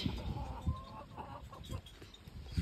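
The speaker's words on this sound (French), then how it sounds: "C'est un coq." Chickens and a rooster at a Cuban resort give soft, intermittent clucks and low throaty calls close by, a few short bursts spread across a couple of seconds with quiet background between them.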